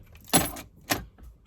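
Car keys jangle in two short, close metallic bursts as the car is switched off, with quiet pauses in between and no voices.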